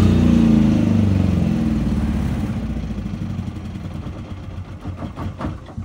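A PK10000STRA generator engine runs with a loud, steady drone, then is switched off, the sound winding down and sputtering into uneven, fading pulses as it stops.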